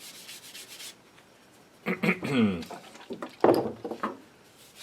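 Paper towel wiping oil across a wooden gun stock during recoil pad fitting, heard as a few close, dry rubbing and scuffing strokes in short bursts after a quiet start, with soft handling noises between.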